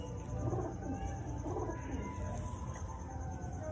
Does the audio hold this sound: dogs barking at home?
no